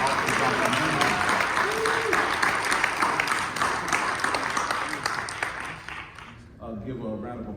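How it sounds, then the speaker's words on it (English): An audience applauds loudly and continuously for several seconds, the clapping fading toward the end as a voice begins speaking over it. "Let's give Brother Jeremiah another round of applause for the office."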